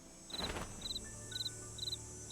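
Crickets chirp in the Nancy Drew: Ghost Dogs of Moon Lake video game, a rhythmic series of short high trills repeating about every half second over a soft ambient background.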